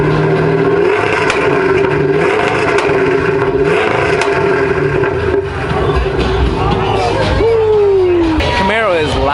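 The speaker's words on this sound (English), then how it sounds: "Camaro is loud." A loud Camaro at a car show revs hard and rumbles up close, its pitch climbing and falling in sweeps, with crowd chatter and voices mixed underneath.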